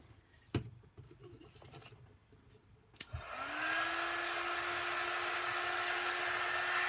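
A small handheld dryer switches on after a couple of faint clicks and knocks, then blows a loud, steady whooshing stream to dry wet orange and blue paint on a DIY decor piece.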